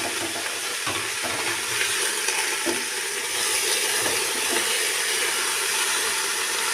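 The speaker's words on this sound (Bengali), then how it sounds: "এটাকেও আমি তেলের মধ্যে একটু ভাজা করে নেব পালং শাকটাও দিয়ে দিলাম দিয়ে এটাকে খুব ভালো করে নাড়াচাড়া করতে হবে" Spinach sizzles steadily in hot oil while being stirred, with a constant close frying hiss and occasional soft spatula scrapes, and no talking.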